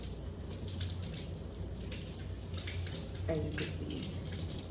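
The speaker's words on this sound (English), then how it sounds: "wash these off real good." Tap water runs steadily into a kitchen sink as fresh asparagus spears are rinsed under it, a continuous splashing hiss with a brief spoken remark over it.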